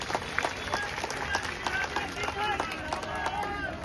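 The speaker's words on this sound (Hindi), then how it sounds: "विजय भाई के लिए एक बार जोरदार तालियां बजाओ।" Crowd clapping at a political rally in India, a fairly faint, continuous patter of applause heard at a distance and lasting throughout.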